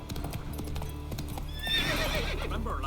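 In The Witcher 3: Wild Hunt on the Skellige Islands, a horse's hooves clip-clop in a steady, close rhythm, then a loud neigh rises over the hoofbeats partway through.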